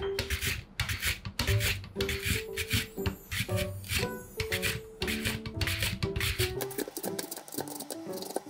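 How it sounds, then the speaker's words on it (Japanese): A knife thinly slicing lotus root on a cutting board, a steady run of rasping, scraping strokes with crisp taps, close up and continuous, ending in softer cuts. "レンコンは薄くスライス"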